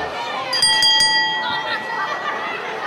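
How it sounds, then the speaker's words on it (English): Ringside bell clanging several quick times to open a pro wrestling match at an indoor event, ringing out over crowd chatter. "The bell sounds and we are ready to go here."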